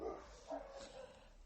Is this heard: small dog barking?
yes